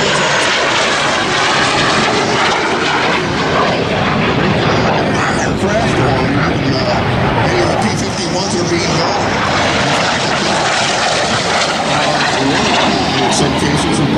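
Warbird propeller aircraft flying at an airshow, a loud, steady engine drone filling the whole stretch, with speech underneath.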